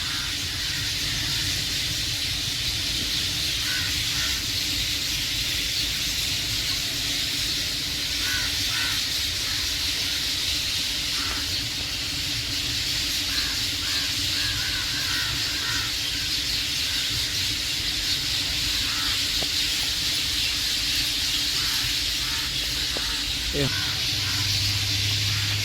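Dense, continuous chatter of a large flock of birds roosting in an old banyan tree, a steady hiss of calls filling the whole span, with occasional louder caws above it.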